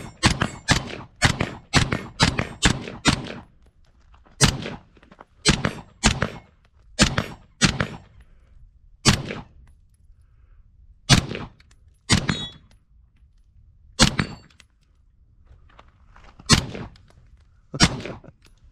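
Suppressed CZ Bren 2 SBR rifle firing, a rapid string of sharp, close shots at first, then slower single shots spaced a second or two apart, each a crisp report with a short tail.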